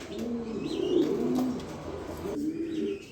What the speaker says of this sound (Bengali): দেখার মতো একটা নর কবুতর